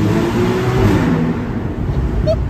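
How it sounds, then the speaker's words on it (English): A Porsche Boxster S 981 engine roars loudly and steadily, revs shifting briefly with a short drop and rise during downshifts, echoing inside a tunnel. "So let's do a couple of downshifts."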